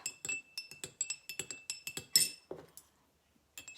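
A spoon clinks rapidly against drinking glasses of water while stirring, bright repeated ringing taps close up, then a brief silence before a few more clinks.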